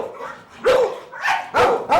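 A rescued stray dog barks at a New York grooming salon, three or four sharp, loud barks in quick succession, close by with no talk.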